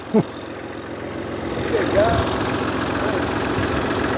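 A tractor engine idles with a steady low rumble throughout, under a man's speech and a brief knock near the start.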